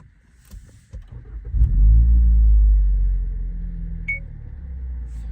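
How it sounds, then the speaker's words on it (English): A 2018-2024 Toyota Camry engine cranks briefly and catches, swelling into a loud low rumble that eases into a steady idle, with a few faint clicks and a short high beep partway through. "So now we're going to turn the car on"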